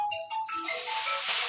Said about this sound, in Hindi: फोन भी आ गया बीच में, इसको ऑफ किया जाए।